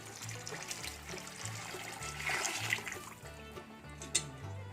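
Mutton cooking water pours and splashes steadily into a biryani pot, fairly quiet, with background music playing underneath.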